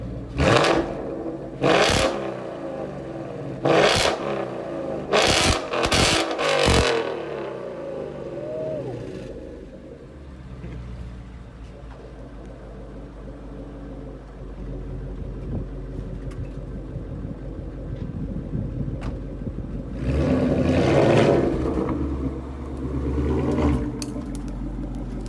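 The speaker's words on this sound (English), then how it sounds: "he loves the exhaust note. Good exhaust. Really good exhaust. No drone at all." A car with a Corsa Xtreme quad-tip exhaust idles with a deep, steady exhaust rumble, then revs up loudly near the end, with a few sharp knocks early on.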